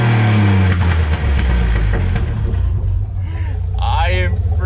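Corvette engine in a lifted Corvette build revving hard against the rev limiter, loud and close with a stuttering, bouncing roar that drops away before a voice speaks at the end.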